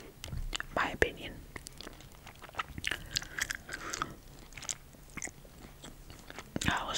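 Sour watermelon gummy candy chewed up close, with a series of soft, sticky bites and mouth sounds in an uneven rhythm, along with quiet whispering.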